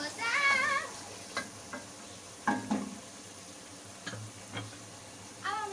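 A spoon stirs mutton kofta curry mixture with korma masala and salt in a pan, giving a few scattered scraping and clinking strokes over a faint sizzle, with a short burst of voice at the start.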